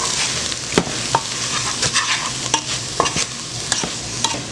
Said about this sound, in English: we're just gonna mix this all together